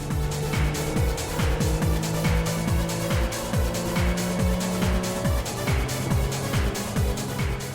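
A loud Nissan Z racing car engine in the video game Import Tuner Challenge revs continuously, its pitch climbing and dropping in repeated gear-shift sweeps with tire screeches mixed in.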